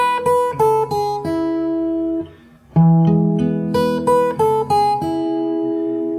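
Fingerstyle acoustic guitar plays the melody of a song, a run of plucked notes over a ringing chord, with a brief near-silent gap midway before the picking resumes, close and clear with no voices.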